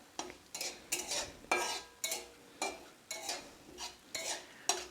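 Whole spices stirred in hot oil over low heat as a tempering for a mixed vegetable curry: rhythmic scraping strokes of a spoon against the pan, about ten in a row, over a light sizzle, close and fairly quiet.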